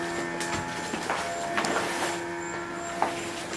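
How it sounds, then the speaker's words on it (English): A sewing machine stitches a UV sacrificial strip onto a genoa or jib sail, giving a steady mechanical hum broken by sharp clicks and knocks at irregular intervals, close by and with no talk. "we will start sewing this one."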